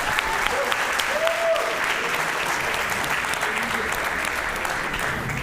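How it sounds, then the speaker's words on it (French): Audience applause at a French awards-style ceremony, a steady dense wash of many hands clapping throughout, fairly loud and even with a faint murmur of voices beneath. "on peut quand même l'applaudir parce que c'est le GOAT."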